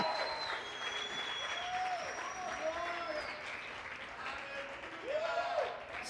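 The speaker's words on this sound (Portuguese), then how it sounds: "Aplauda ao Senhor Jesus." Sustained applause from a church congregation at a New Year's Eve service fills the space, dense and steady, while a voice speaks and calls out over the clapping.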